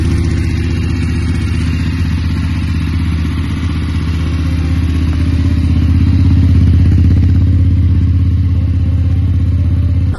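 A BMW 850 GSA motorcycle idles, then revs after starting, a loud, close, steady low rumble with a rapid throbbing beat and slight mechanical clatter, swelling a little in the middle, with no voices over it.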